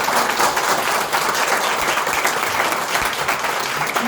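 An audience at a corporate presentation event applauds steadily, a dense wash of many hands clapping at once, loud and sustained for several seconds.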